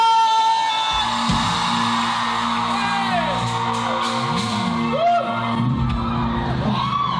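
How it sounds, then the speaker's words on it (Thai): A loud concert crowd shouts and whoops continuously, voices overlapping in a dense roar of cheering with high yells rising above it. "ขอบคุณ เสียงกรี๊ดดังๆของทุกคนนะฮะ"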